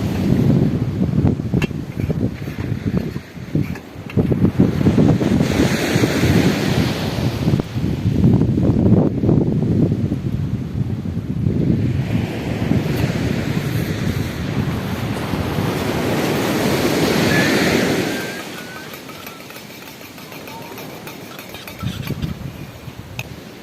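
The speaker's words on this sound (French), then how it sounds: "Une petite contemplation du matin devant les vagues qui m'ont bercé." Morning ocean waves break and wash against a pink granite shore, a loud, rolling surf roar with heavy wind buffeting the microphone, swelling in repeated surges before easing to a softer wash near the end, with no voices.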